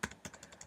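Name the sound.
computer keyboard keys being pressed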